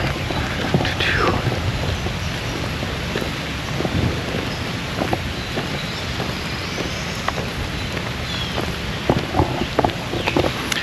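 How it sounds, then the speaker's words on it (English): Rain falling steadily outdoors at night at a van campsite in Iowa, a dense hiss with scattered drops and pattering, mixed with gusts of wind buffeting the microphone. "I'm not scared of the rain at all, and actually kind of enjoy it."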